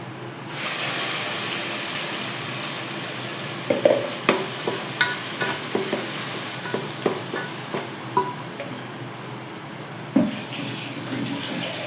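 Freshly ground masala hits a hot pan beside fried brinjal and sizzles steadily, with a series of sharp stirring clinks and scrapes punctuating the continuous frying hiss.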